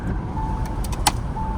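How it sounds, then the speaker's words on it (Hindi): A car drives on the road between Nubra and Pangong in Ladakh. A low, steady engine and road rumble fills the cabin, with a few brief clicks and a faint whine over it. "गाड़ी अब बढ़िया परफॉर्म कर रही है।"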